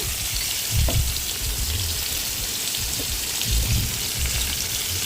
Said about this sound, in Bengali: বাকি মাছগুলো আমি কড়াইতে দিয়ে দিলাম সেগুলো হালকা করে ভেজে নেব